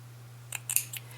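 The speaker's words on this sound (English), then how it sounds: "make another snip, push it a little bit more, and constantly holding pressure with your scissors up against the fabric" Scissors making a few quick snips through faux fur fabric for a pompom, three or four short, crisp cuts in a quiet room with a steady low hum underneath.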